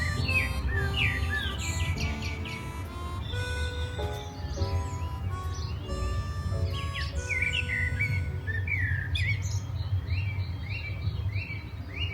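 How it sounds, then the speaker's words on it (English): Many birds sing and chirp together in a lively dawn chorus, overlapping whistles and trills continuing steadily throughout, with no talking. "I'm listening to the birds and the dawn chorus."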